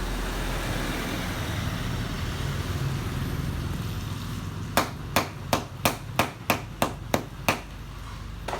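Hammer blows on a motorbike tire during a roadside tire repair, about eight sharp, evenly spaced strikes close by that follow several seconds of steady traffic rumble.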